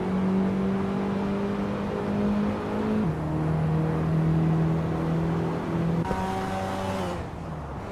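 A 1988 Porsche 944 Turbo S engine in a racing game holds a loud, steady drone, its pitch shifting down at each gear change with a brief rising whine near the end.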